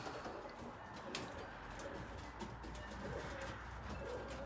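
A racing pigeon coos softly in a loft with low, faint, repeated calls over steady background noise.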